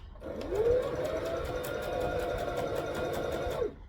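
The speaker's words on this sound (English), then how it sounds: "I want to do a fairly long stitch length, and then I'm going to back stitch." A sewing machine runs a long stitch and then back stitches, its motor whirring up steadily with a fast, even needle clatter for a few seconds before winding down and stopping.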